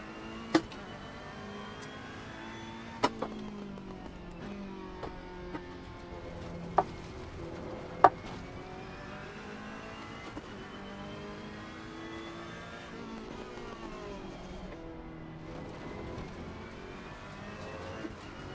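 A race car in a sim racing game, its engine droning and rising and falling in pitch as it accelerates and shifts through corners, with a few sharp clicks or knocks breaking through; steady and fairly quiet.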